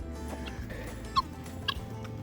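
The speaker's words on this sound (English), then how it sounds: "These are tiny chickens." Small chickens, black and white, cluck a couple of times, with short sharp calls rising over a low, steady background murmur.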